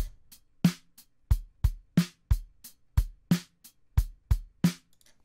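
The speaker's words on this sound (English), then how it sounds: "Okay, it's a nice and full round drum loop." A dry acoustic drum loop at 90 BPM from the Reason Dr. Octorex loop player: punchy kick and snare hits with short hat ticks in a steady groove, close and without reverb.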